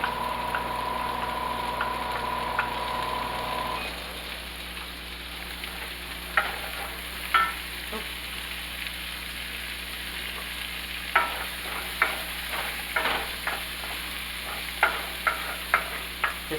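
Chopped onion sizzles in a pan at the start of a fish stew, a continuous close frying hiss over a low steady hum, with a spoon scraping and clinking the pan in irregular bursts and no speech.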